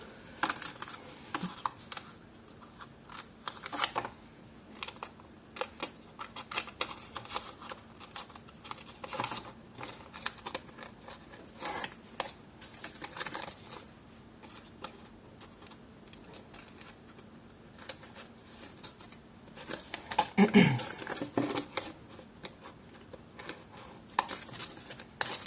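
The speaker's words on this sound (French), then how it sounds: "je vais prendre mes ciseaux" Scissors snipping around the outline of a kraft paper house craft piece, with a steady run of small close clicks and rustles of paper at a quiet, even level and a slightly louder burst near the end.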